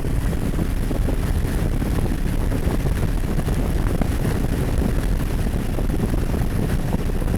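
Steady, loud wind roar buffets the rider of a Honda VTX1300 motorcycle at highway speed, a continuous broadband rush with no breaks and no talk.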